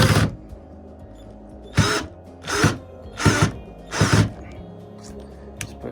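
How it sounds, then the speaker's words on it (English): Power drill on its lowest gear strains to drive a screw into very dry wood, four or five short, loud whirring bursts separated by pauses, the bit slipping between attempts. "Just put my drill on lowest gear and try and get some power onto it."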